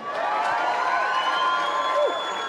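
Crowd applause and cheering at a motorsport endurance race podium ceremony, a continuous dense roar of clapping with whoops and shouts rising through, steady and fairly loud for the whole stretch.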